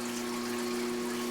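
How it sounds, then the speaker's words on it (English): A water pump runs steadily with a tonal hum while water flows up from beneath a house foundation, a close continuous wash of noise with no talking. "Underneath this pump is water coming out from underneath the floor."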